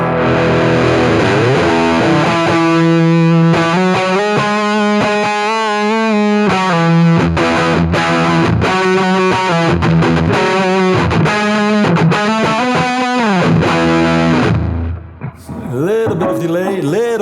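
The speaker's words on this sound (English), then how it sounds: "It's a Big Muff inspired, really scooped, compressed fuzz sound." An electric guitar plays through a NUX Mighty 20 MKII amp with a scooped, compressed Big Muff-style fuzz, loud sustained distorted chords and riffs with faint vibrato and delay, ending in a short tail and brief noodling.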